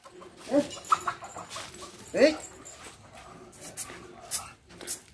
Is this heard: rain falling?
no